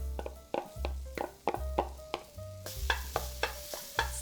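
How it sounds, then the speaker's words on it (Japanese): Microwaved onions and carrots stir-fry over medium heat in a frying pan already oiled for meat sauce pasta, with a soft sizzle under repeated scraping strokes of a utensil against the pan. "電子レンジで加熱しておいた玉ねぎと人参をフライパンに入れて中火で炒めていきます"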